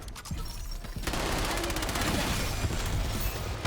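Sustained gunfire in the video game Black Ops 7, a dense stream of shots that builds after a brief opening and holds loud to the end.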